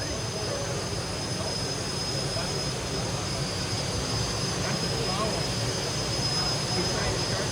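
A turbine-powered pulling tractor engine runs at a steady, loud, continuous roar with a high whine on top, unbroken throughout at a tractor pull event.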